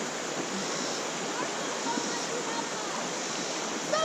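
Tidal water rushes as a steady, loud broadband wash, recorded up close, with no break in the flow and only faint bubbling over the top of it.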